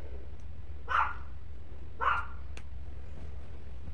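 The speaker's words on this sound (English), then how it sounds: "my dog is like really annoying" A small dog yips twice at a moderate distance, about a second apart, over a steady low hum in a home during a morning routine.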